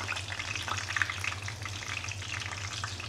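Fish frying in a pan for a home-cooked lunch, giving a steady, dense crackling sizzle with no pause and no voices.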